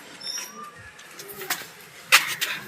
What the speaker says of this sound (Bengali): পায়রা দেখাচ্ছি